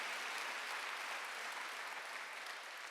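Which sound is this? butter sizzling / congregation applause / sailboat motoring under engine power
congregation applause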